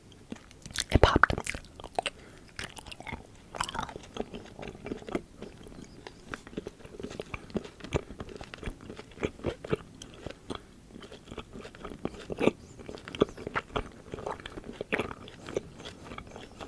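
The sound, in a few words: chewing wax candy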